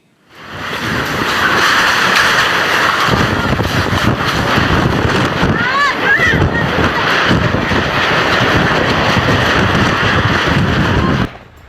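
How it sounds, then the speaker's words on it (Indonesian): Strong tornado wind roars in a dense, continuous rush that buffets the microphone, loud and unbroken for over ten seconds as it sweeps across house roofs in a West Java village, with faint squeaks briefly rising through the noise. "Dalam video amatir terlihat angin menyapu atap rumah warga."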